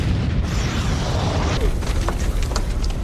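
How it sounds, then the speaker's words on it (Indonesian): An explosion from a leaking nitroglycerin canister in a film, heard as a dense, roaring blast with a rumbling low end that continues and is followed by scattered debris clatter, with no speech. "Malcolm dan Karim tewas karena ledakan tersebut"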